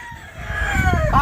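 A rooster crows once at close range, a single rising-and-falling call of a little over a second over a low, steady farmyard background.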